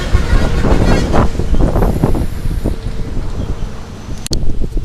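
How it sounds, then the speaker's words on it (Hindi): Strong wind buffets the microphone on Ratnagiri Beach, a steady roar with surf-like rushing and no voices, staying loud throughout. "It's very windy here"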